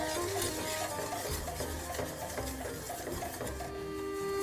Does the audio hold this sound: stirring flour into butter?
yes